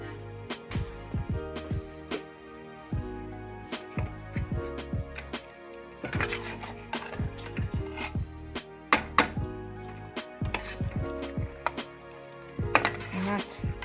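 A utensil knocks and scrapes against a pan while chopped potatoes are stirred into an aubergine curry, giving irregular clinks and thuds over a few seconds with a faint musical backdrop.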